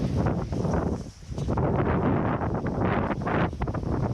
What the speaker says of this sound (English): you can't hear anything I'm saying because of the wind